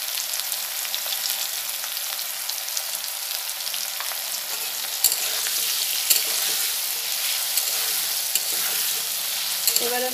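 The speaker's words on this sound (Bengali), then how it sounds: "ঢাকা দিয়ে আমি 2 মিনিট এটাকে ভাজা ভাজা করে নেব।" Potato pieces with salt and turmeric frying in a pan for a potato and eggplant curry, a continuous close sizzle with occasional stirring knocks and clinks, no voices.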